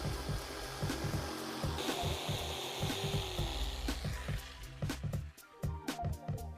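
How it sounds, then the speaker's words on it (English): Jigsaw fitted with a fine tooth wood blade cutting smooth timber, a rapid buzzing rasp with rhythmic stroke pulses that stutters and pauses near the end, close and prominent. "Here I'm using a fine tooth wood blade. This is ideal for cutting through smooth wood with a neat finish."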